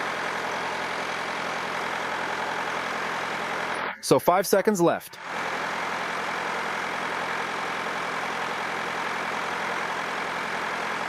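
A car engine idles steadily during a battery system test, with an exhaust extraction hose fitted at the rear; the low, even rumble runs throughout, and a voice speaks briefly over it midway.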